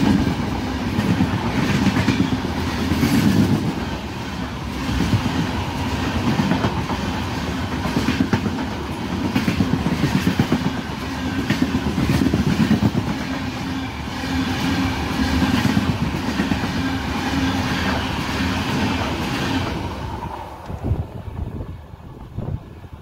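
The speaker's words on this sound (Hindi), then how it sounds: "एक्सप्रेस झड़पथी पसार थई गई है, तमे जोई सको छो विडियो में।" An express train on the Rajkot–Bhuj railway rushes past at speed, a loud steady roar with rhythmic clickety-clack of wheels and wind buffeting, holding strong for about twenty seconds before dropping away abruptly near the end.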